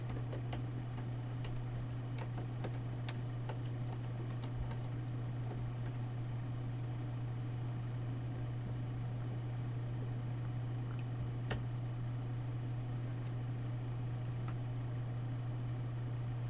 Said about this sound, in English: I hear the humming of my computer.